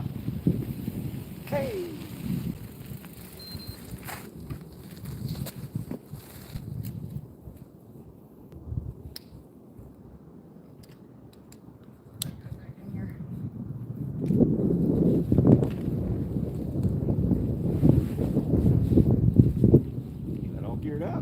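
Wind blowing outdoors along a river, rumbling and buffeting in gusts that swell louder toward the end, with a person calling out briefly and some handling noise.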